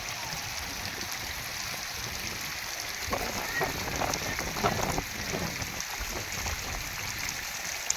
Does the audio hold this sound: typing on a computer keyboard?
no